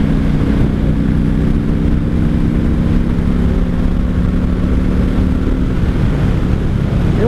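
A 1995 Honda Shadow VLX 600 VT600CD rumbles along on a commute, with a steady low engine drone mixed with heavy wind buffeting across the whole stretch and no talking.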